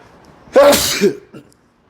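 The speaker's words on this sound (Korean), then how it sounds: "제가 재채기를 해가지고 좀 걱정을 하실까봐" A single loud, close sneeze from a man preaching a Sunday church sermon, with a sharp intake and burst followed by a brief trailing breath, heard alone in a quiet room.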